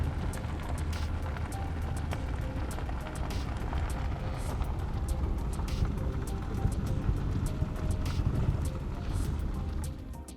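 A car creeps slowly along a dirt road, its low engine rumble and tyre crunch on gravel steady and close throughout.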